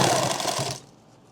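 A sewing machine runs in one fast, steady burst while tacking down laptop bag pieces, loud and close, then stops abruptly into near silence.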